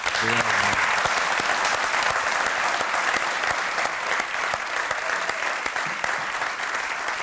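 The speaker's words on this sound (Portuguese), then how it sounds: "merece uma incrível salva de palmas" Audience applause for a singer on a Portuguese music programme, a dense, sustained wash of clapping from a large crowd that carries steadily through the whole stretch at full strength.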